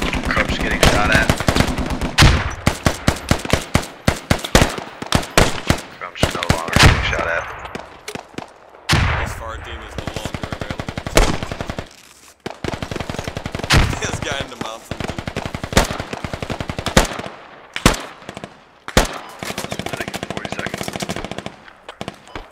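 Loud, close bursts of automatic machine-gun fire in the video game Squad crackle almost continuously, with sustained rapid volleys and short single shots toward the end.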